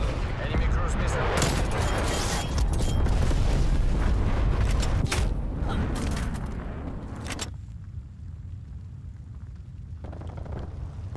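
Cruise missile explosions in Call of Duty Black Ops Cold War, loud rumbling booms and blasts piling up in a dense barrage, then fading into a quieter low rumble with sharp cracks, under a voice announcing game events.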